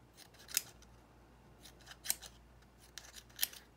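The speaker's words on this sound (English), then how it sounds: "So I have to get the little scissors" Small scissors snip apart pieces while tiny witch brooms are being made: three or four crisp, close cuts spaced about a second apart over quiet room tone, with no talking.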